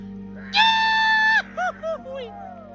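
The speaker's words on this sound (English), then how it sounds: "And now we do the goofy yell." Several voices on a ski outing in the Swiss Alps near Findeln let out a drawn-out, goofy group yell, then a few shorter whooping bursts over low background hum.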